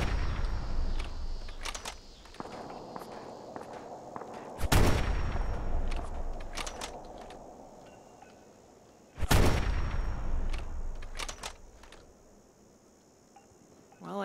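Gunfire at an enemy in Fallout 4, sharp close shots with two heavy blasts standing out among quicker cracks, over a faint insect-like buzz of the game's ambience.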